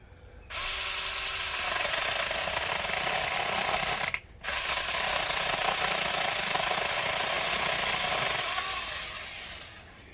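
A Tingmengte battery chainsaw cuts down a tree branch, a loud continuous buzzing whine that starts abruptly, stops briefly after about four seconds, resumes and tapers off near the end.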